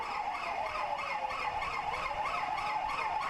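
A fire truck's siren wails in rising and falling cycles while it rushes to an emergency through a narrow, crowded commercial street in Jeonju, steady and fairly close over low traffic rumble.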